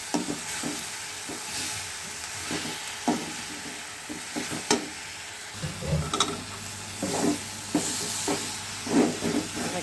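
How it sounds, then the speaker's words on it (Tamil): Greens being sautéed with cumin powder and turmeric in a pan, with steady soft sizzling and repeated stirring scrapes at an irregular rhythm, moderately close and without talk. "ஜீரகப்பொடி போட்டுட்டு அது கூட கொஞ்சம் மஞ்சத்தூள் போட்டு நல்லா இப்படி வதக்கிக்கிடுவோம்"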